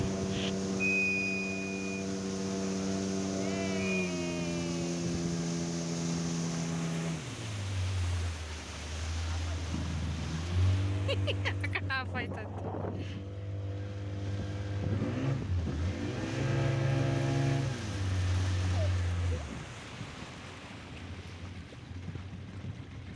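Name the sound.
motorboat engine running on Amani lake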